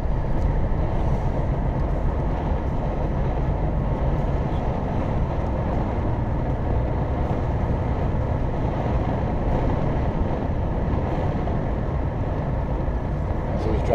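A Volvo lorry comes down a hill near Aberystwyth, a constant heavy engine and road roar filling the whole stretch while someone talks over it.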